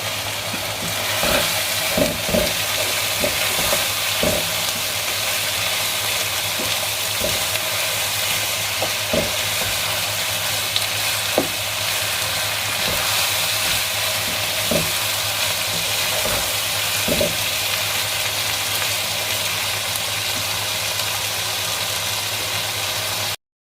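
Spices frying in hot oil in a pan for a chickpea and ridge gourd curry, giving a loud, continuous sizzle with occasional light utensil taps and stirring, no voices.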